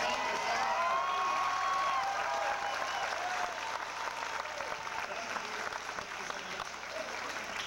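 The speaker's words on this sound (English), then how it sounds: "Every mom and dad, we stayed at your home and everybody that fed it, stand up so we can cheer for you" An audience at a 1997 Young Americans Workshop show at Lake Elsinore High School applauds and cheers for the host moms and dads, with sustained dense clapping and a few whoops that slowly thin out.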